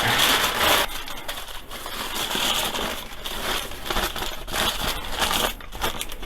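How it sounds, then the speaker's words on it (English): Continuous crinkly crumpling of packing paper, close up, with dense crackling rustles rising and falling for several seconds and no talking. "and then you want to crumple it"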